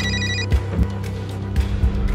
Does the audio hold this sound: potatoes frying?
no